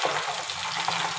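Cinnamon and cardamom fry in hot oil, giving a dense, loud, continuous sizzle at close range for a short moment, with no talking.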